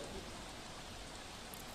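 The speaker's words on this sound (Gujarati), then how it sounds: "ધીમી ધારે વરસાદ છે" Light monsoon rain falls in Dahod as a faint, even, continuous patter with no distinct drops standing out.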